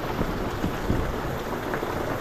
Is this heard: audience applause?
no